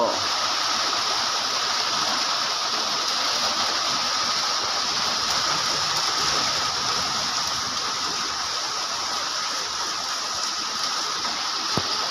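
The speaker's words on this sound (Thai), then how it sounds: "น้ำไหลลงรูอีกแล้ว" Water pours steadily down into a drain hole, giving a continuous, even rushing and gurgling roar that stays constant throughout.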